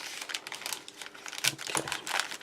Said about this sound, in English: make sure it gets as much air out of that bag as possible as well